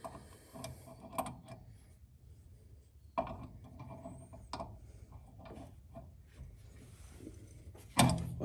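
Faint metallic clicks, scrapes and knocks as a crescent wrench tightens a fuel line fitting connecting a Chinese diesel heater to a main fuel tank, close by and irregular.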